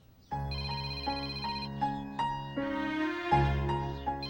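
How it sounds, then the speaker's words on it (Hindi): A melodic electronic ringtone plays a repeating tune, steady and fairly loud, with no voices over it. "फोन उठाओ, स्पीकर पे करो"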